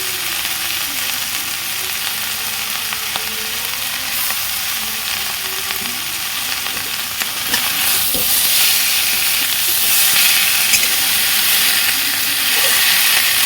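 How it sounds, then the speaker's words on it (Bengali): Prawns go into a pan of cooked stalks and greens, and a loud, continuous sizzle of frying fills the sound, swelling stronger partway through with occasional faint stirring scrapes. "এবার এর উপরে আমি চিংড়ি মাছটা দিয়ে দেবো।"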